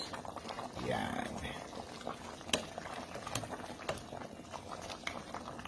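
Kaldereta sauce with pork spareribs simmering and thickening in a pot: soft continuous bubbling with occasional pops, close and quiet, while a person talks over it.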